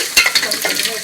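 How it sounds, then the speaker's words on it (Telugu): Ingredients for a Hyderabad-style bachelor palav being fried and stirred in a pan, a steady close sizzle with scraping stirs and a few louder clinks near the start, no voices. "తర్వాత బాగా వేయించాలి."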